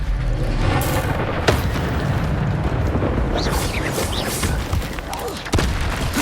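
An Expelliarmus spell is cast in the Hogwarts Legacy video game, a loud burst of booming, rumbling magic with whooshing streaks that fills the whole stretch at a steady, heavy level.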